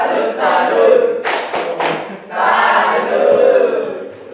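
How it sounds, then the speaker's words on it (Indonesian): A classroom group performing a rhythmic salute clap, bursts of loud clapping and voices chanting in unison, broken by a few sharp claps in the middle. "Baik, tepuk salut."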